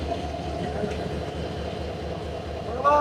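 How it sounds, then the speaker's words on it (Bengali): A Hyundai Rotem diesel-electric metre-gauge locomotive, number 3016, shunts nearby with a steady low rumble and rolling noise, then a brief squeal at the end. "লোকোমোটিভ শাল্টিং চলছে।"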